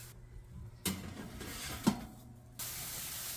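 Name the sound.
spray bottle spraying water on baguette dough before baking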